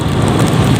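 Local rain drums on a vehicle driving toward Alus-Alus village on Simeulue, Aceh, a dense, close hiss and patter over a low road rumble.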